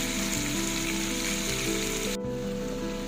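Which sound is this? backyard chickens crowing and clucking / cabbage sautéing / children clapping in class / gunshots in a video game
cabbage sautéing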